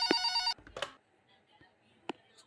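A telephone rings in the Pikabuu nurse night-shift horror game, one loud electronic ring burst at the start followed by quieter game sounds and a brief sharp blip.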